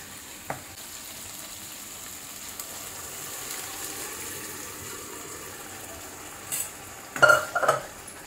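Cooked green moong poured into hot oil with onion and tomato, giving a quiet low sizzle with a short splash and clatter of utensils near the end.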